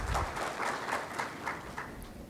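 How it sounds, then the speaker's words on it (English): Audience applause for a speaker at a one-day seminar on AI held by ICAI, a steady wash of many hands clapping throughout with no voices on top. "A big round of applause for sir."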